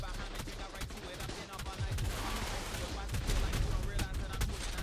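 Gunfire in the video game ARK on a PvP server, rapid bursts of shots cracking over a busy rumbling game mix, with voices talking partly underneath.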